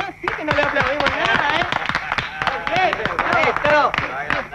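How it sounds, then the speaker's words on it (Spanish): A small group applauds a cook indoors, bursts of hand clapping mixed with overlapping chatter and laughter, close and lively. "un aplauso para el cocinero"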